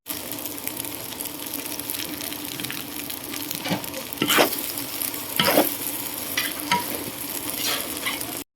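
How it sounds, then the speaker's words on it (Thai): Pickled mustard greens and glass noodles stir-frying dry in a pan, a steady loud sizzle with scraping utensil strokes and a few sharper clatters throughout, no talking. "ผัดผรกกาดดองวุ้นเส้นนะจ๊ะ แห้งๆนะจ๊ะอย่าให้แฉะนะ"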